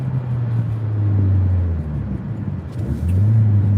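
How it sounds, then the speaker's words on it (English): A car is driven on the road toward a hotel near the Tijuana border, a steady low engine drone inside the vehicle that eases off and then rises again as it accelerates. "Driving to my hotel room."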